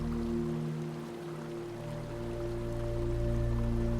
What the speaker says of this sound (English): Tune into the sound of the water, that steady, soothing rhythm.